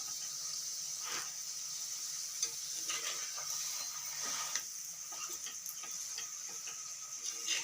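A paratha fries in hot oil over a raised gas flame, making a quiet, steady sizzle scattered with small ticking pops and light crackles.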